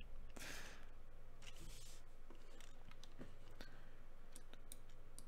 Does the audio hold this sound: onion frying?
no